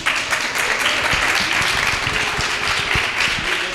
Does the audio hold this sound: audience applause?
yes